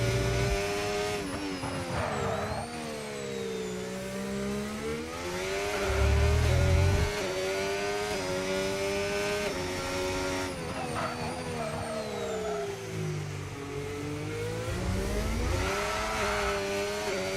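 A Formula 1 car at Bahrain pre-season testing on a push lap with battery deployment, its high engine whine rising and falling through gear changes as it passes, with downshift blips and a brief low rumble, sustained and alone.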